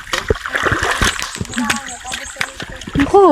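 Stream water splashing during a nature hike in Agusan, irregular close splashes and sloshing of feet wading through the current, with voices talking over it.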